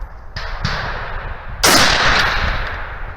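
A PWS MK216 rifle firing: two lighter metallic clanks, then a loud, sharp report that rings out with a long reverberant decay.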